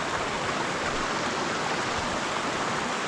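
A waterfall roars close by in a dense, unbroken rush of falling water, heard at a river while fly fishing.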